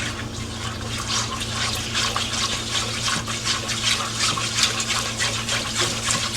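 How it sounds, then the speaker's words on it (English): Milk poured into a pot of lasagna sauce makes a steady, continuous liquid pouring and splashing sound at close range, running without pause and with no voices. "So I'm gonna go ahead and add my milk"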